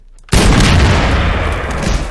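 A trip mine detonates in the video game Benefactors, a sudden loud boom after a brief quiet moment, followed by a sustained rumbling roar that slowly fades.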